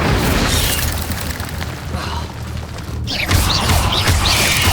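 The Incendio fire spell is cast in Hogwarts Legacy, a loud booming burst with crackling, whooshing game effects that hold steady and swell again near the end.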